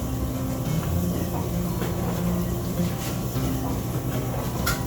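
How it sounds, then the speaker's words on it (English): A steady mechanical whir and low hum of a running dishwasher fills the background, with occasional faint clicks and knocks, no voices. "I'm sorry for the dishwasher noise."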